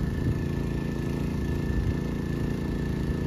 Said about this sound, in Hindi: यहाँ पे एक्टिवा के पास ये चल रहा है इंजन अपना